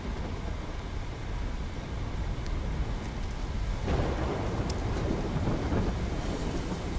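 A thunderstorm rages in Call of Duty: Black Ops 3, with dense rain and wind roaring continuously and a deeper rumble swelling partway through.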